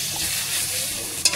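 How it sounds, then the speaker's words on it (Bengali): Tomatoes with salt are stirred in a hot frying pan, giving a continuous sizzle with soft scraping. A sharp utensil clatter comes near the end. "এবার নাড়াবার পালা।"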